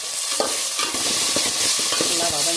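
Onion and tomato sautéing in a pan, with a steady sizzle of frying and repeated stirring scrapes and taps, close and loud.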